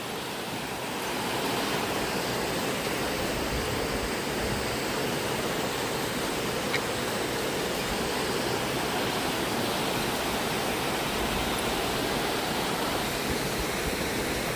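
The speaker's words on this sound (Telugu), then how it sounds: "వాటర్ ఫాల్ చూడొచ్చు, చిన్న వాటర్ ఫాల్స్." Small waterfalls among hills in Meghalaya, a steady, even roar of falling water that holds constant throughout with no voices.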